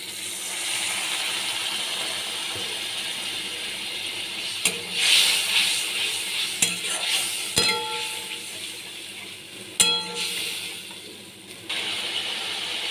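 A pan of spices sizzles after cumin powder and a little water go in, a steady hiss broken by a few sharp clatters of a spoon on the pan, then a brief bubbling flare before settling, no talk.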